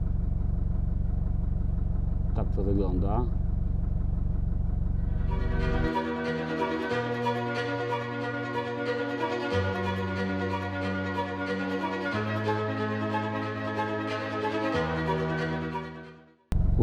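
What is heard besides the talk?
car engine running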